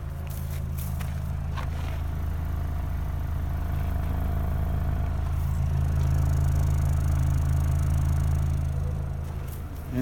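A 2.4-litre K24A2 four-cylinder in an Acura TSX parts car idles with a steady low hum and rumble, close by and alone, swelling slightly partway through.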